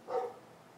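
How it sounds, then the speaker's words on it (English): A single short, faint bark from a neighbor's dog in a backyard some distance away, followed by quiet. "That's the dog in the backyard."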